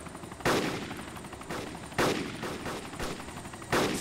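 Overlapping video game gunfire as several players shoot at once, with repeated loud bursts about every second and a half over a steady rattle of shots.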